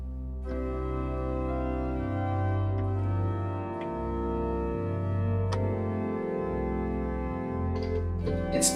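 An improvised interlude on the Gregorian chant Salve Regina, played as a melody over held accompaniment chords with a deep sustained bass that shifts every couple of seconds, steady and fairly loud with no voice.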